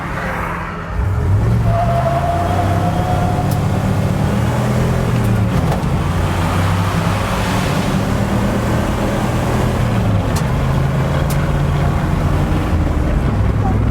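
A Chevrolet Silverado pickup with a 5.7 V8 pulls away from a standstill, its loud engine droning and rising steadily in pitch for over ten seconds, with wind rushing over the microphone.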